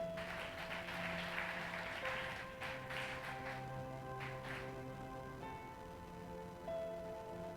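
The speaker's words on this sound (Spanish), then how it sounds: "¿Por qué no le das un aplauso al Espíritu Santo?" A church congregation claps together, a soft patter of many hands rising in a few uneven bursts over sustained organ or keyboard chords.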